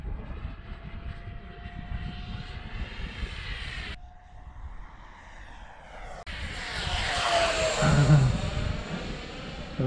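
A model F-15 jet climbs out after takeoff, its engine a steady roaring whine that holds loud and swells near the end as it passes close, with outdoor wind in the background.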